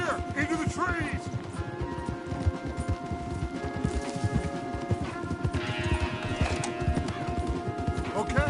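Several horses gallop in Red Dead Redemption 2, rapid hoofbeats pounding steadily and close throughout, with occasional snorting and whinnying and faint voices under the running.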